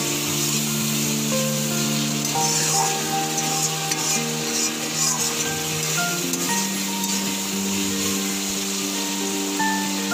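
Potatoes seasoned with salt fry in a pan for a Bengali banana-flower and prawn dish, giving a steady, close sizzle that runs the whole time beneath gentle background music.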